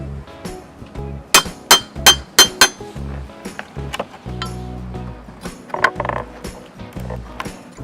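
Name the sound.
crowbar and hammer stripping concrete pillar formwork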